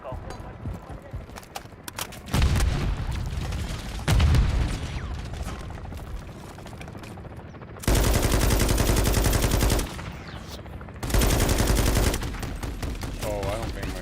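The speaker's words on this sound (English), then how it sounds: "John got a mounted MG coming your way on an armored vehicle." Video game gunfire from a vehicle-mounted machine gun on an armored vehicle, with several dense rapid bursts, two of them long and loud, under and between stretches of talking.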